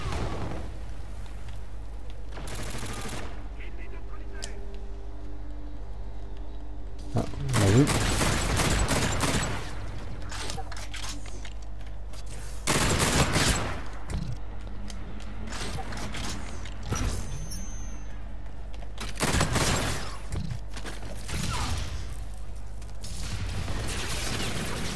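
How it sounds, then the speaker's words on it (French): Burst fire from the R-VN weapon in the video game Infinite Warfare, several separate loud bursts of rapid shots spaced a few seconds apart, with a voice speaking quietly in between. "Donc c'est une rafale de coups."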